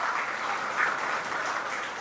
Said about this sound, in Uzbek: Uchliklarimiz esa bitta olqishlab qo'yasizlar